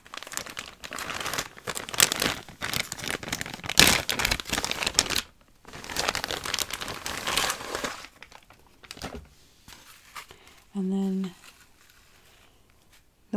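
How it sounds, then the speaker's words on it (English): Plastic bag packaging of a Shein wig crinkles close to the microphone in several bursts of crisp rustling, broken by short pauses and a quiet stretch near the end. "So when you buy from Shein, this is what the packaging looks like. Just in these plastic bags."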